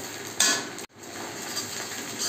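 Malabar spinach and dried fish frying in a pan, a steady sizzle with a loud hiss and a brief stir or clatter near the start.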